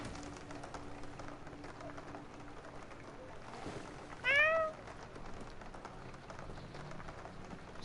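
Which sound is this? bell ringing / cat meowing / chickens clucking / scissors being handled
cat meowing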